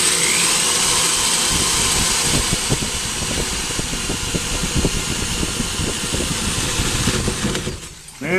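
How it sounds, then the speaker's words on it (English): A continuous whirring power drill grinds steadily through brick for several seconds, then winds down and stops near the end. "I'm going to put it in the drill."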